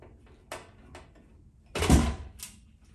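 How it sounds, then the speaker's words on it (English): A loosened transformer drops onto a table during circuit-board repair work, landing as one loud, near thump with a brief rattle after a few lighter knocks and taps. "it makes a big clunk because the transformer falls on the table"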